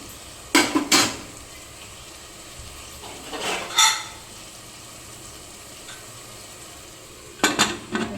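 A lid set onto a pot of onions cooking with salt and turmeric for a village-style cashew curry, three separate metallic clanks and scrapes spaced several seconds apart over a faint low sizzle, no talking.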